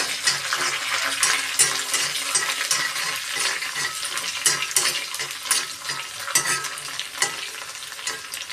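Curry leaves spit and crackle in hot oil for an onion pickle while a spoon stirs them steadily, producing a loud, continuous sizzle broken by scraping bursts, with no voices.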